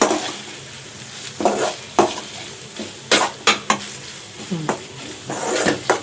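Tomatoes frying in a pan for mutton curry, steady sizzling under repeated scraping stirs of a spoon against the pan, close and fairly loud, with no talk.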